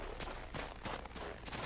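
Bombs bursting on a frozen lake in the video game The Witcher 3, a rapid series of loud crackling blasts in quick succession with no pause.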